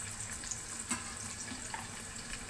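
Chopped onion and green chilli pieces frying in a pan, a steady soft sizzle with faint crackles and one brief clatter, quiet and close, no voices.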